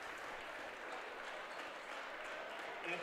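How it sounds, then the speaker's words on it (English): Arena crowd at a girls' high school basketball district final gives a sustained standing ovation for the Centerburg High School district runner-up team, a dense, steady wash of clapping and cheering. "one more round of applause for the 2024 district runner-up team, Centerburg High School"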